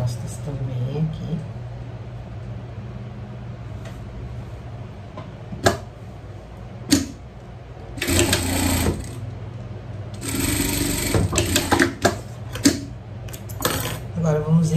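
A sewing machine stitches binding onto a small pet bikini in several close bursts of rapid mechanical whirring, with clicks and handling sounds between runs while someone talks.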